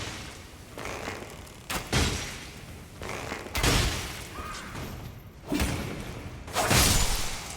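Bow shots fired at an enemy in Elden Ring, with a bandit build on the hidden path to the Haligtree: several separate loud thumping impacts spaced a second or two apart over a steady background wash.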